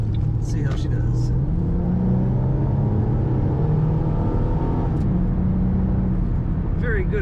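A blue 2006 Ford Mustang with an automatic transmission accelerates, its engine rising in a loud, steady rumble that climbs in pitch, eases at a shift, then climbs again, with a voice speaking over it.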